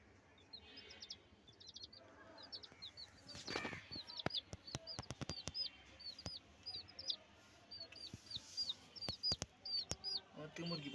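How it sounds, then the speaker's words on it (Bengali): Backyard chickens cluck and chirp repeatedly at close range, soft scattered calls over quiet ambience, with a few sharp clicks and taps mixed in. "আমার থেকে মুরগি পালতে ভালো লাগে"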